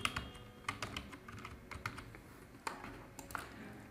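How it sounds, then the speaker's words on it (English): Rapid typing on a computer keyboard, close and clear, with irregular clusters of crisp key clicks and a few louder strokes, no voices. "Let's quickly type the header."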